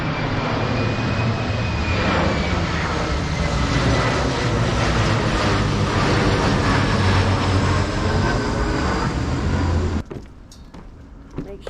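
A fixed-wing airplane passes close over a city park near an airport, its loud, steady engine roar filling the scene for about ten seconds before cutting away to quieter outdoor ambience.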